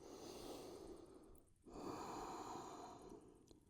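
Slow, soft breathing during a held vinyasa yoga pose: a long exhale, a brief pause, then a long inhale, close and quiet, with no talking.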